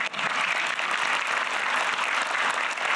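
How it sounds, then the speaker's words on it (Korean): Audience applause fills a government ministry briefing hall, dense steady clapping from a crowd, loud and close and unbroken for a few seconds. "박수도 한번 치세요."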